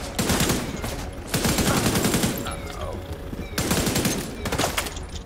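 Machine gun fire in the shooter game Tom Clancy's The Division 2: loud, dense bursts of rapid automatic shots in two long volleys separated by a brief quieter gap, with sustained rattling and echo.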